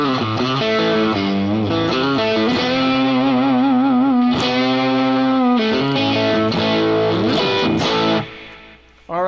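Distorted electric guitar playing from a 2020 Gibson Les Paul Standard fitted with a Greeny out-of-phase pickup mod and 61 rhythm and lead pickups, giving a thin, nasal, notched tone; loud sustained chords and bends run steadily, with no talk.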